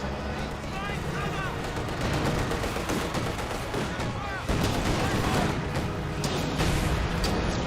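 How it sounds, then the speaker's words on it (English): Battle noise from Company of Heroes 2: dense continuous gunfire and artillery-like booms with a landmine detonation among them, loud and sustained, with bursts of rapid machine-gun fire throughout. "Oh, I heard another landmine detonation."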